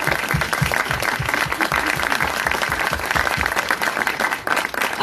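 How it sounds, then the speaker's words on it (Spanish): A crowd at a political campaign celebration breaks into loud, sustained applause for volunteers, dense clapping filling the space throughout with a few voices mixed in. "este aplauso es para ustedes"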